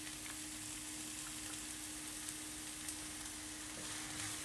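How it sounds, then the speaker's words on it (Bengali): Chopped onion frying in hot oil for chicken do pyaza, a steady, even sizzle with faint crackles throughout, alone with no voices. "এখন আমি তেলটা যখন হালকা গরম হবে, এ পর্যায়ে আমি 1 কাপ পেঁয়াজ কুচি দিয়ে দিব।"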